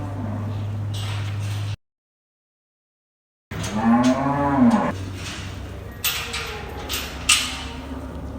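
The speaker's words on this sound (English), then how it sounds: "We're buying cows." Cattle at a livestock sale let out a long, loud, close moo after a brief dropout, followed by faint clatter and pen noise in the background.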